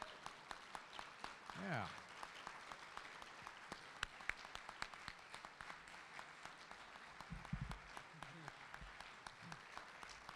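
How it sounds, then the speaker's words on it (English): An audience at a convention general session in Daytona Beach gives sustained applause with distinct sharp individual claps over a crowd wash, and a person calls out once amid the clapping. "showing me your enthusiasm with a big round of applause"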